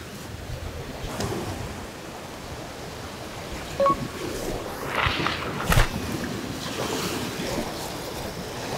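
Ocean waves from the left and right converging offshore over a reef channel at a sea bass fishing spot, heard as a steady wash of surf with wind noise across the microphone and a few brief splashes, no talking.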